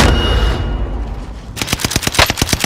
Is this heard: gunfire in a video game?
yes